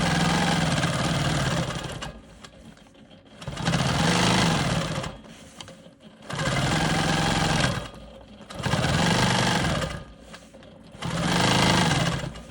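A sewing machine stitches in the ditch along the seams of a diamond quilt block, running in five steady bursts of a few seconds each with short quiet pauses between them, close and loud.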